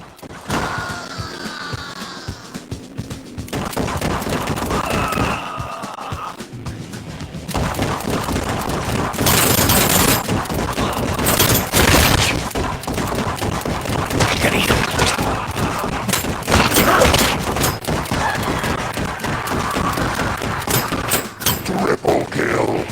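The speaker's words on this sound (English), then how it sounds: "Y'all call this shooting? Let me show you how it's done." Rapid gunfire in the VR shooter Guns 'n' Stories: Bulletproof, a dense barrage of loud, close shots and booming blasts that keeps firing almost without a break for the whole stretch, with brief heavier bursts.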